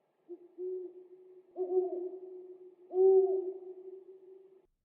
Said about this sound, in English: In the distance, a horned owl hooted dismally.